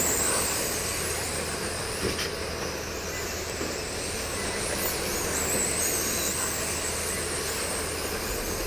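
Midwest modified race cars roar around an oval track at a clean green-flag start, a loud, continuous blend of engine drone and tire noise with a faint brief crack near the two-second mark, no talking.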